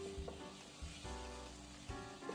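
Carrots and tomatoes stirred together in a hot pan, giving a steady close sizzle with a few soft scraping strokes rising out of it.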